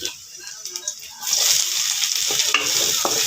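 Onion fries in oil until golden, a soft sizzle under quiet talk that swells into a loud, hissing, spattering fry partway through.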